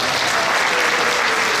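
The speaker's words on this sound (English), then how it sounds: "how about a round of applause for Brittany putting that together?" Steady, dense applause from a concert audience at a VFW Post 8543 band performance, loud and continuous throughout with no break or talking.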